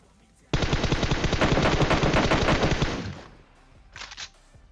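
Automatic gunfire in the PUBG Mobile battle royale game, a loud sustained burst of rapid shots lasting about three seconds, then a short second burst after a brief gap.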